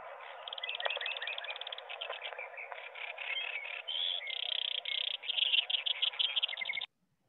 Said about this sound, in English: and then this one is the Lincoln sparrow